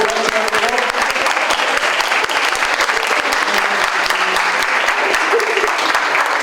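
Sustained applause from a big audience at an academic social sciences event, thick and even, with scattered cheers and voices faintly audible beneath the clapping.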